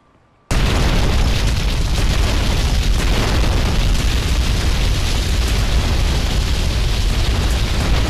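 A large explosion in the video game GTA Vice City bursts in suddenly after a brief near-silence, then roars on as a loud, dense, sustained blast and rumble to the end.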